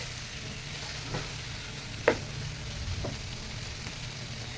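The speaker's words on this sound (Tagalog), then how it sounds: "Gisa-gisa muna natin ang ating chicken" Chicken sautés in a pan with a steady, soft sizzle and hiss, close by, broken by a few sharp clicks of a utensil stirring against the pan.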